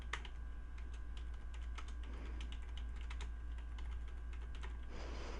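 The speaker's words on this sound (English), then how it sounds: "So we're going to type in our keyword." Typing on a computer keyboard, scattered soft key clicks in short bursts over a steady low hum, quiet and close, with no speech.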